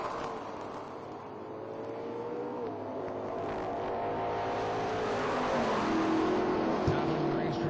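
IHRA Pro Am drag race cars roar down the track together, a loud, sustained engine howl that climbs steadily in pitch and grows louder as they accelerate, with an announcer talking over it.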